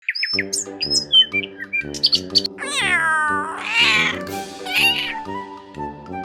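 A cat meows repeatedly and loudly up close, including a long drawn-out wail, mixed with bright chirping bird-like tweets over a steady musical background.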